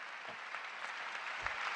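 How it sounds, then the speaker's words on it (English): A played-back recording of an audience applauding at a political event, faint and distant, with a low thump partway through. "Why are they clapping?"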